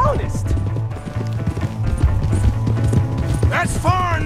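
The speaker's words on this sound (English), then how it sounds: "That's my horse!" Horse hooves clip-clop at a steady gait in Red Dead Redemption 2, mixed under a busy game soundtrack with characters shouting and a horse whinny near the end.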